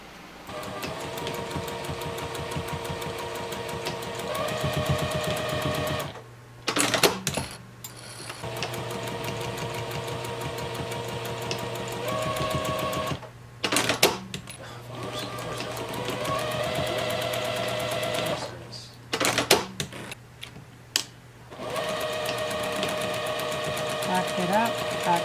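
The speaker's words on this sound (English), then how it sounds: "we're going to sew right across that marking line. Make sure that you back stitch" A sewing machine stitches across a marking line on a small bag, running in fast rhythmic bursts of several seconds, stopping and restarting for back stitching, with a voice talking during the pauses.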